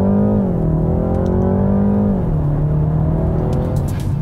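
A 2023 BMW 330i sedan's engine pulls hard through the gears from inside the cabin, its droning pitch climbing, dipping at a shift, then rising again.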